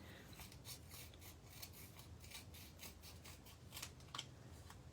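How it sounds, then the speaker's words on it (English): Paper snips cut through a double-sided adhesive sheet and its backing layer while trimming foil cardstock, a steady run of faint, close, rasping snips and scrapes with no talking. "I'm using this backing layer again to protect my paper snips as I cut away any"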